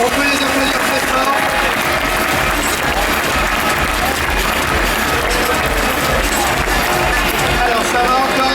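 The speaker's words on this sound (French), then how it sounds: "On peut les applaudir très fort." Audience applause for robots at the French robotics cup, a steady, dense wash of clapping and crowd noise that fills the whole stretch without letup.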